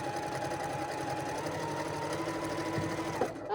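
A sewing machine stitching binding onto a Christmas tree pot holder runs steadily and close up, a continuous whirring hum with a rapid mechanical stitch rhythm, stopping abruptly just before the end.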